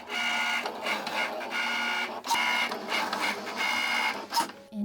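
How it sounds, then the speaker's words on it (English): A Cricut Maker's rotary blade cuts fabric held on a pink grip mat, its motors whirring in bursts that start, pause and shift as the carriage moves, close and mechanical with no voices. "I'm using the rotary blade that came with the Cricut Maker"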